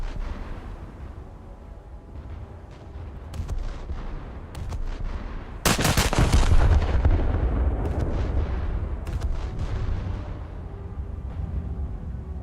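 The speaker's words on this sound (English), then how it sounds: "Let's see what we can do against it with battleship guns." Battleship guns firing in a naval combat video game, with a heavy, booming salvo around the middle followed by a long rumbling roll, set over constant low background rumble and scattered sharper distant reports.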